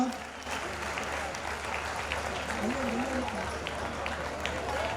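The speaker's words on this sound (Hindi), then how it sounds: "अगर अच्छा लगे जोरदार ताली होना चाहिए पूरे मनोभाव के साथ" Audience applause at a spiritual discourse assembly, a broad steady wash of clapping lasting throughout, with a voice talking underneath.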